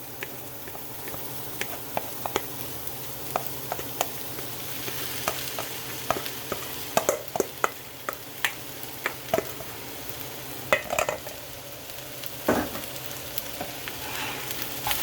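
Cooked rice and shrimp are stir-fried together in a hot pan, a low continuous sizzle under irregular scraping strokes, knocks and clinks of a spatula tossing everything, close up and without voices.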